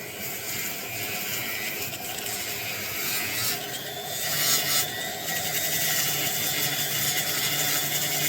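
A high-speed rotary tool, running at about 12,000 RPM, polishes a fire agate stone under light pressure, giving a continuous whirring, hissing grind that rises and dips slightly as the tool moves across the stone.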